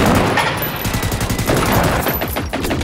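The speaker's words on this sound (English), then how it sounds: "I forgot I had the EMP rockets on." EMP rockets firing in the video game Generation Zero, a rapid burst of sharp repeated blasts in quick succession, loud and close, with no talk over it.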